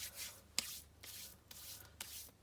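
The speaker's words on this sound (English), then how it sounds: "it just rubs off the excess glue" Excess glue is rubbed off a handmade card in soft, quiet strokes, about five brushing passes in an even rhythm with a faint tap near the start.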